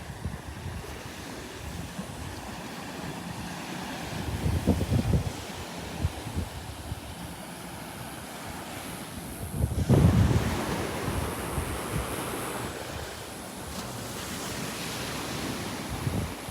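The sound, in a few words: breeze blowing on the beach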